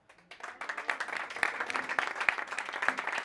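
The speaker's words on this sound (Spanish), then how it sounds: "Un aplauso." A small audience at a short-story contest award ceremony bursts into applause, with clapping starting after a brief pause and continuing at a moderate, even level with a few sharper claps standing out.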